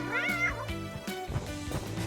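Cat meows in a cartoon setting with toy dolls, a bright, rising call followed by more meow-like tones over dense background music, fairly loud and continuous throughout.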